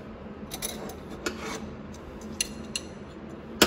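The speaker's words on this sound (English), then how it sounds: "A 600 sandpaper where the lip seal rides for the piston on the outside," 600 grit sandpaper rubs on a transmission piston where the lip seal rides, a soft close rasping scrub with a few sharper scrapes and a clack at the end.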